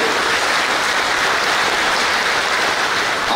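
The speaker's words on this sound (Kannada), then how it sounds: "ಒಗ್ಗೂಡಿನಿಂದ ನಾವೆಲ್ಲೊಂದು ಜೋರಾದ ಕೈ ಚಪ್ಪಾಳೆ ಮೂಲಕ ವಿಶ್ವ ಹಿಂದೂ ಪರಿಷತ್ತಿಗೆ ನಾವು" A large crowd at a public gathering claps loudly and continuously, a dense, even roar of hands with no voices.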